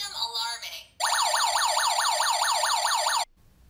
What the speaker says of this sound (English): When the panic button is pressed, the alarm is triggered immediately.